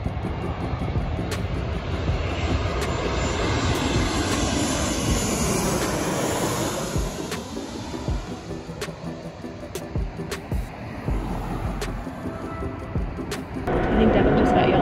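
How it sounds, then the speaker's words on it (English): Airplanes coming in to land near the LA airport, a loud sustained jet roar sweeping past with a falling pitch, mixed with wind and handling bumps while people talk. "we were just watching all the planes come in because the landing is right there"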